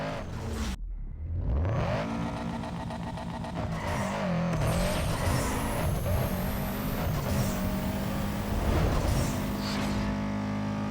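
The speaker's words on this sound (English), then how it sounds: "Listen to that engine." Subaru Impreza WRX STi 2.5-litre flat-four engine in Need for Speed Underground during a 400-metre drag run: the engine revs hard, pitch climbing through each gear, with brief breaks at the shifts and a continuous loud roar.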